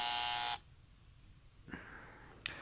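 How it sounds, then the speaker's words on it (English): A lie detector buzzer effect gives one loud, harsh electric buzz lasting about half a second, then near silence with a few faint later sounds. "What's that? Lie detector."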